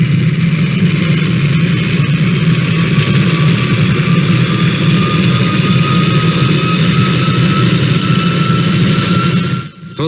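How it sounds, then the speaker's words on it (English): A jet engine runs steadily inside an enclosed jet test house, a loud, sustained roar with a high shrill whine and deep rumble that holds nearly unchanged before a brief dip at the very end. "the shrill whine of a jet can be ear-shattering"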